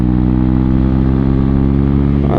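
Motorcycle riding along a road in Ladakh, a loud, steady close engine drone with a constant low throb and rushing wind, alone without voices.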